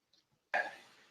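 A single sharp cough from a person indoors, close and abrupt, fading quickly after a faint throat sound just before it.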